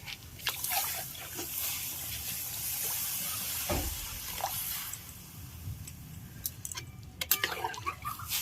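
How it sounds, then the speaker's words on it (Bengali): Water poured into lentils (dal) in a cooking pot, a soft, close sloshing and splashing pour with drips and light clinks, fairly quiet throughout. "এবার জল দিয়ে দিচ্ছি"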